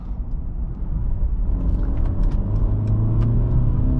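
A 2022 Mercedes GLE 350 SUV's four-cylinder engine accelerates with a steady low rumble and a slowly rising drone, heard from inside the car, fairly loud, with no talking.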